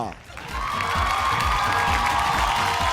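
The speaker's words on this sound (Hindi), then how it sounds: "लेकिन इससे पहले मैं जोरदार ताली से स्वागत करना चाहता हूं हमारे दोनों जजेस का।" Loud, sustained applause and cheering from a live audience welcoming the judges at a village-fair talent show, a dense crowd of clapping with scattered whoops that swells in quickly and holds steady.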